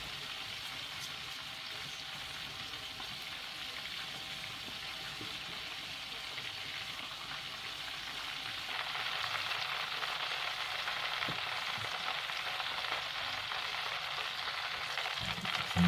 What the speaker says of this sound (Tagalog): So yan, i-deep fried na natin.